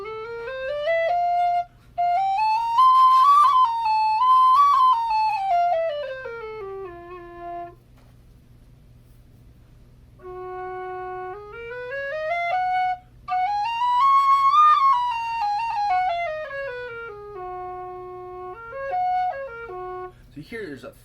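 Two Goldfinch whistles, set a half step apart, play clear melodic phrases one after the other, each a bright, pure tone rising and falling in pitch, close and alone against a low background hum.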